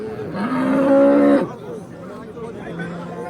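A cow lows once loudly and close, with a long rising then falling moo at a livestock market in Kattakurgan, Uzbekistan, followed by low crowd chatter and murmuring voices.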